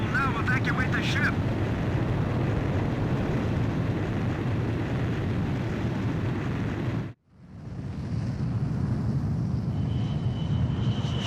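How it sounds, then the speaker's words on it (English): A jet launches by carrier catapult in the video game Ace Combat 5 with a loud, sustained engine roar. It cuts out abruptly for a moment, then surges back and keeps rumbling to the end. "Aircraft launch confirmed."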